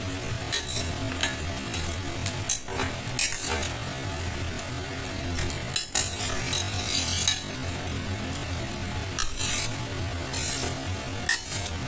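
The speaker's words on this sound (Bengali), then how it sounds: "মধু দিয়ে এখন ভালো করে আবার নাড়াচাড়া করে দিচ্ছে" A spoon stirring fish curry masala of rohu and yogurt with honey in a pan, with repeated scraping and clinking strokes against the metal and a faint sizzle, loud and close throughout.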